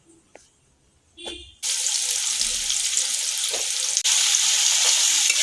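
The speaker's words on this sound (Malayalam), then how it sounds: "ഇനി നമുക്ക് ബിരിയാണിയിലേക്കുള്ള സബോള വാട്ടാവേ." Onions frying in a pan for chicken biryani, heard after a couple of faint clinks: a loud sizzle starts abruptly and continues steadily, briefly swelling near the end.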